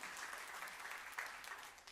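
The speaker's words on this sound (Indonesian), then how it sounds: "Tepuk tangan yang meriah untuk kemuliaan Tuhan" A church congregation claps during a sermon, a steady, soft wash of applause that stays even for the whole stretch and sounds somewhat distant.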